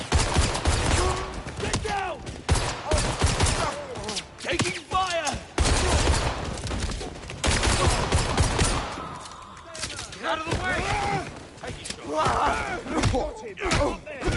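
A chaotic firefight with rapid bursts of gunfire and heavy thuds, loud and nearly continuous for the whole stretch, with shouted voices mixed in.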